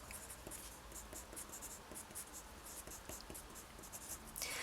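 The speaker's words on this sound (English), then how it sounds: "I'm going to use a 4B pencil just to demonstrate this to you. There's a thing called cross-hatching." A 4B pencil scratches repeated cross-hatching strokes across paper in a steady run of short, close, dry scraping lines, fairly quiet and with no talk over it.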